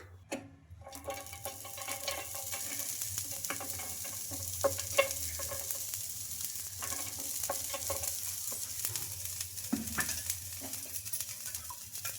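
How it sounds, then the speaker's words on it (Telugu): Rava dosa frying crisp on a hot pan in oil, with a steady close sizzle and crackle throughout, broken by a few light scrapes and taps. "ఇంకా ఈ దోశ కూడా బాగా క్రిస్పీగా ఫ్రై అయిపోయింది"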